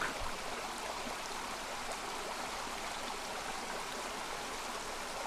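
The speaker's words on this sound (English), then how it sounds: "so we've now come to a stream, and this stream leans all the way down to Burbage Brook" A stream in the Peak District flows down toward Burbage Brook, a steady, close, broadband rush of running water with no pauses and no voices.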